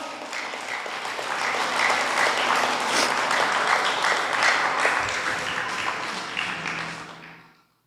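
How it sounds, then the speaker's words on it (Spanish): A church congregation gives a loud burst of applause during a sermon, dense and sustained clapping at a steady level before it fades out toward the end. "dale un fuerte aplauso al Señor"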